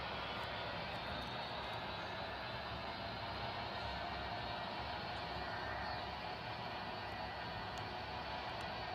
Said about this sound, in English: Let's go ahead and start our takeoff roll.